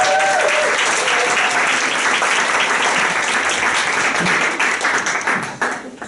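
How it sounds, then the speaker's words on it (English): A club meeting breaks into a round of applause, many hands clapping together in a dense, lively burst that holds steady and then thins and fades toward the end. "we start with a round of applause to bring some energy to the table"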